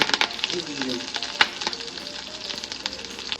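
Quiet, steady sizzling of fenugreek seeds and a chili frying in hot oil, with a few small pops and crackles.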